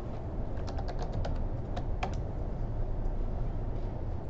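Soft, quick clicks of code being typed on a computer keyboard come in short bursts over a loud, constant low rumble of background noise.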